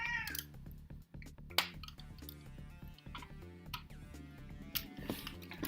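Indoor house cat meowing several times, fairly close, amid soft clicks and small knocks in a quiet room.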